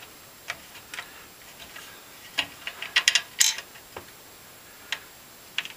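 Screwdriver driving the first screw into an AZZA Fusion 4000 ATX super full tower PC case, producing sparse, sharp metallic clicks and ratcheting ticks, close and quiet against near silence, with a short cluster in the middle.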